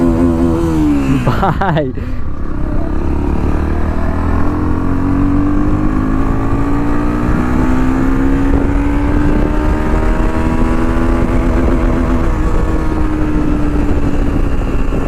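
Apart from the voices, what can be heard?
NS 160 motorcycle exhaust note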